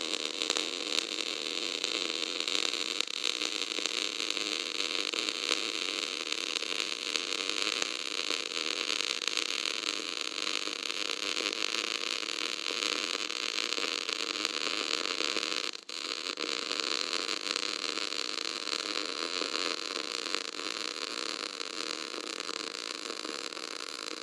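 MIG (gas metal arc) welding lays a multi-pass weld, firing wire through the gap between the first and second passes, with a steady, dense electric hiss and hum that runs unbroken apart from one brief dip.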